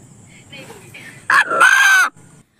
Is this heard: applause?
no